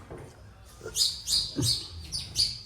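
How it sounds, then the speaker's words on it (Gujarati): House sparrows chirp in a quick series of bright, short calls, fairly close, with a few soft background noises between them. "ચકલીઓ આવી જશે ઘરમાં ચી કરીને"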